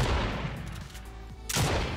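Shotgun fire in Fortnite: a loud blast opens, the report decays, and a second sharp shot follows near the end. Both are close and punchy with no talk.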